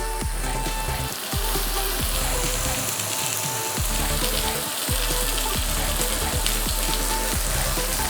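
Spices sizzling and frying in a hot pan for Kabuli chana masala, a steady dense crackle running throughout at close range with no talk over it.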